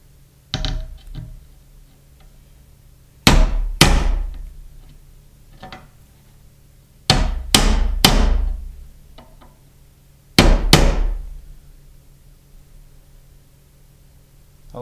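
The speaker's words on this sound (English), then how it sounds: "we take our hammer and our nail and we're going to bore out a couple of holes so we can screw in the screws more evenly" Hammer driving a nail to bore screw holes in the wooden body of a snare cajon: sharp, loud strikes heard alone, a single hit, then an isolated blow, a quick cluster of three, and a final one spaced across quiet pauses.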